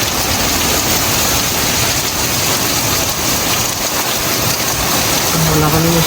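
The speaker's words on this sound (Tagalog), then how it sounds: "Parang bagyo." Heavy rain pours and wind roars without letup in a strong storm in Canada, a dense close wash of sound, with people talking excitedly under it.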